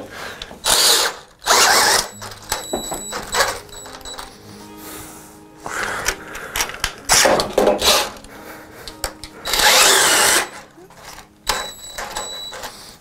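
A power drill whirs in several loud, separate bursts of a second or so, with people talking in the pauses between them.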